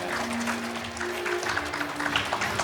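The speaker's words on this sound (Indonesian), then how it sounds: "Tepuk tangan." Applause from a conference audience in an Indonesian business session, a steady mass of claps lasting a few seconds with sustained tonal hum underneath and no speech over it.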